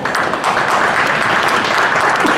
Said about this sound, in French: merci d'applaudir nos intervenants